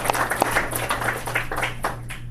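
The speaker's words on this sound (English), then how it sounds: "give you guys a huge round of applause" A round of applause at a team meeting, with many hands clapping in a steady dense patter that stays fairly loud and unbroken, over a constant low electrical hum.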